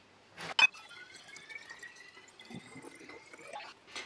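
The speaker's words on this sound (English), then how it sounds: "going to use about 600 to 700 mils of water" Tap water poured into a vessel to make tea, with a thin trickle whose tone slowly rises as it fills, a small clink near the start and a splash at the end, fairly quiet and close with no voices.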